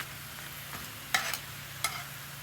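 Tostadas frying in oil on a Blackstone griddle, with a steady low sizzle and a couple of sharp crackling spatters as they are handled and flipped.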